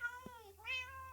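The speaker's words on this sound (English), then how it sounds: "Your cats are very loud." A Minecraft cat gives a single clear, close meow with a rising then falling pitch, heard on its own with no talking.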